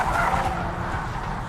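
A Hyundai Genesis Coupe drifts through a corner at about 60 mph, its engine roaring steadily while the tires hiss and scrub in a continuous skid, loud and close throughout.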